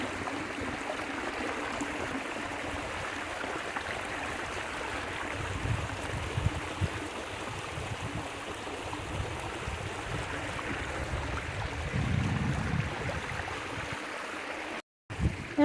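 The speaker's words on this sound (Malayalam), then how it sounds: "അതും സൈലൻ്റ് ഏരിയയിൽ ആ വെള്ളം പോണ സൗണ്ട് ഉണ്ടല്ലോ, ഭയങ്കര രസമാണ്." A forest stream flows in a quiet wooded area, a steady, soft rushing wash of water that carries on without break for the whole stretch, with no voices over it.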